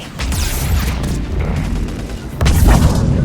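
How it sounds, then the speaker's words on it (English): Missiles launch and blow up in the video game Mass Effect 3, a dense rumble of booming blasts and whooshes that swells louder near the end. "Missiles on. Missiles away."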